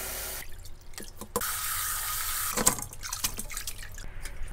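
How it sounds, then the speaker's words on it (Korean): Tap water runs into a sink as ogapi shoots are washed, the steady rush broken by brief splashes, drips and handling sounds, close by with no talk. "이렇게 씻어서 물을 빼?"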